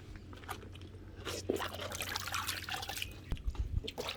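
Rinsed cucumbers for oi-sobagi draining in a kitchen, with steady water trickling and dripping alongside soft wet handling noises and a few crisp knocks near the end, no talking.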